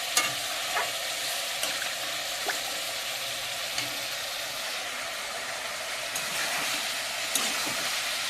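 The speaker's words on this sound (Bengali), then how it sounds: "মাংসটা এখনো কষানো চলছে।" Meat sautés in a pan with a continuous soft sizzle and intermittent stirring taps and scrapes, moderately quiet and with no voices.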